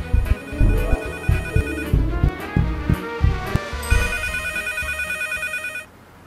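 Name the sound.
old mobile phone ringing in video game Leisure Suit Larry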